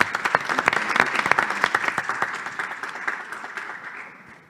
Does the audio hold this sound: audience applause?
yes